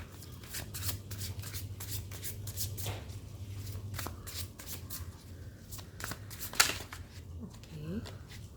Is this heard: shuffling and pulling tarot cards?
yes